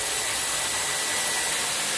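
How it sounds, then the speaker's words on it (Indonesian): An electric water pump with an automatic flow switch runs as water gushes strongly from an open tap, a continuous even roaring rush filling the short moment without any voices. "Nih, pompanya tuh, airnya kenceng deras."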